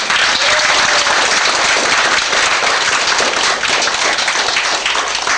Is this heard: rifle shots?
no